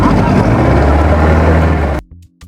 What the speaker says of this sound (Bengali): এই যে আমাদের স্পিড বোট এগিয়ে চলেছে